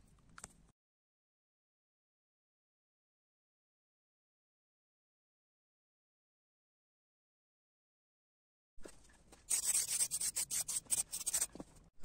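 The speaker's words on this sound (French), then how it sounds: "je vais refinir un petit coup de ponçage" Sanding a rusty lawn mower part: a brief rub at the start, then long silence, followed by a loud, rapid run of coarse back-and-forth abrasive strokes, close up.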